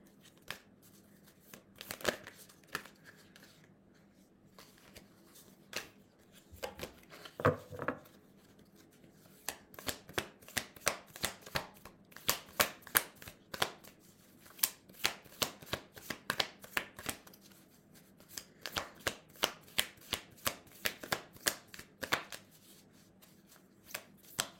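Tarot cards being shuffled and dropped in a pile, a quiet run of soft papery slaps and flicks that turns into rapid, regular riffling bursts, close by with no talking.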